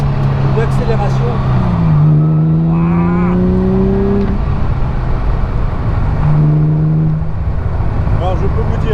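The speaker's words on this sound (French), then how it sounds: "Alors je peux vous dire que les accélérations sont incroyables sur les 3 litres" Morgan Roadster with a 3-litre V6 engine accelerating, the exhaust note rising in pitch through the gears, heard from nearby alongside constant road and wind noise while someone talks throughout.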